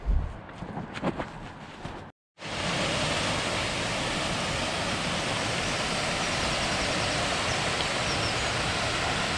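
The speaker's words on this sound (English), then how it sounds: "Beautiful little waterfall this morning, just as we're leaving Keld." A small waterfall near Keld in the English countryside roars in a dense, constant rush that swells in after a brief moment of quieter outdoor noise and a short silence.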